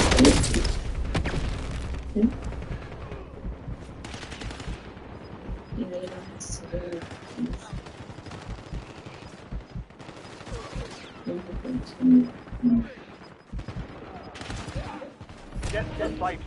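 Bursts of gunfire in the video game Warzone crack across a busy firefight, with rapid volleys and scattered single shots near and far. Voices speak throughout.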